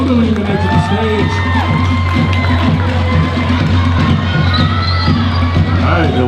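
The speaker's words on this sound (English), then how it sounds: "Round of applause for our dancers, ladies and gentlemen." At a youth Tahitian dance solo competition for beginners aged 10 to 12, a lively crowd cheers and whoops for the dancers, with loud shouts and children's voices over a steady background hum.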